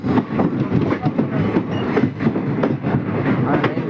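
A Tirupati Express train runs with a parallel train moving alongside in the opposite direction, a steady rumbling roar with rhythmic wheel clatter throughout.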